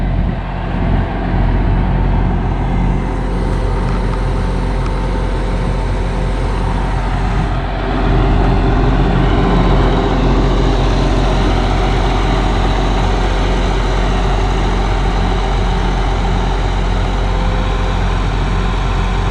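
A loud turbocharged tractor engine idling on a Danish farm with a steady low rumble and droning roar throughout, close up.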